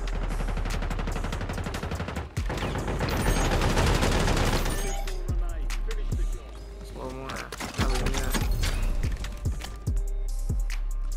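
Loud gunfire in the Warzone video game, first a dense sustained fusillade of rapid shots, then scattered heavier bursts and single cracks, with a voice speaking at times among the shots.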